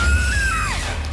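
A piercing animatronic scream from the horror game FNAF Security Breach Ruin, a single loud high shriek that bends downward and fades within about a second over a low rumbling game backdrop.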